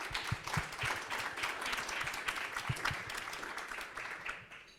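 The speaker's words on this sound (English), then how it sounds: "A good big round of applause, please," An audience at a conference panel gives a round of dense, continuous applause, moderately distant and steady, tapering off at the end.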